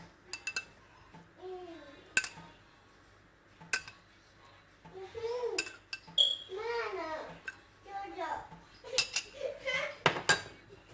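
Spoon clinks against a bowl while chana chaat is mixed with chilli, salt, chaat masala and tamarind pulp; intermittent sharp taps and scraping, with a child babbling nearby.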